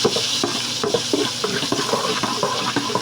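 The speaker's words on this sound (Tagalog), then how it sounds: "At gigisa natin ang ating sibuyas" Onions sauté in Star margarine in a pan, a close, continuous sizzle broken by regular scraping stirs of a utensil.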